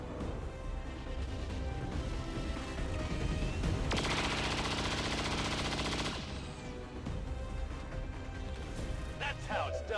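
Gunfire in the video game XCOM 2, rapid bursts of automatic weapon fire with a dense sustained volley in the middle, set over constant game background sound.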